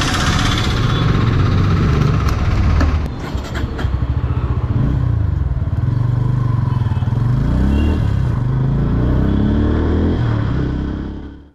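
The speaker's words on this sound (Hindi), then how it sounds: "अब मैं इस बाइक को एक बार आपको स्टार्ट करके भी दिखाता हूँ" A Bajaj Pulsar P150 motorcycle engine runs loudly, sputters briefly as it catches, then settles into a steady throbbing idle before cutting off at the end.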